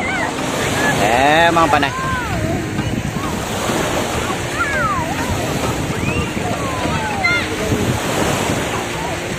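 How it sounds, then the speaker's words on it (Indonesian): Ocean waves wash steadily onto a beach on Penang island, a broad, continuous surf roar with some wind buffeting the microphone, while family members talk and chatter nearby throughout. "dah dekat tepi pantai"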